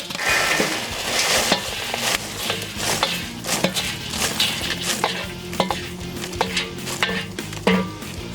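Freshly popped chipotle popcorn tipped out of a kettle popper, a busy rattling, clattering rush of kernels against metal, steady and close with scattered sharper taps and no talking.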